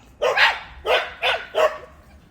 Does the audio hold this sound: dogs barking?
yes